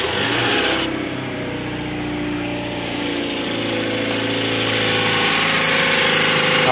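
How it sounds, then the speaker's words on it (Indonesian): A petrol Toyota Innova with a failed water pump runs near the mic, its engine holding a loud, steady idle hum throughout. "Oke, dihidupin mesinnya yo."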